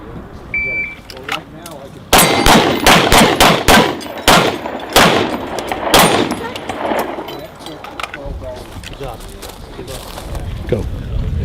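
A rapid string of sharp shots from a 1911 pistol at a shooting event cracks out, loud and close, with brief pauses between bursts while people talk in the background.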